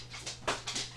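A dog whimpers softly in the background of a quiet room, giving a few short, faint whines spread over a second, with a steady low hum underneath.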